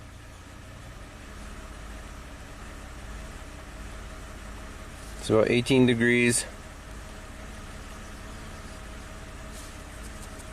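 A Lexus engine idling during a bank 1 VVT test for a P0015 fault, a steady low hum throughout, with someone speaking briefly over it partway through.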